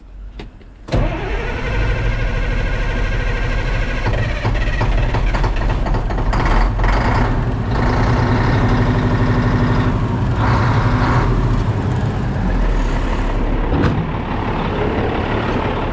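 A Mack truck's diesel engine, being nursed along after a fault, cranks and catches about a second in, then runs loud and steady at a rumbling idle close by for the rest of the time, with no talking.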